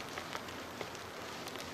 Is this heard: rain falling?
yes